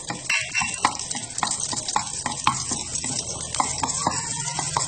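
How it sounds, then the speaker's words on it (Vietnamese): Shallots frying in hot cooking oil in a pan, a steady close crackling sizzle with frequent sharp pops and spatters running without a break and with no talking. "khi dầu đã nóng ấy, mình sẽ đổ hành thơm vào để mình phi các bạn nhé"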